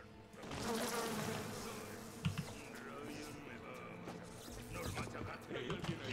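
A swarm of bees buzzes in the video game BioShock, a faint droning hum under quiet game sounds, scattered clanks and a voice speaking.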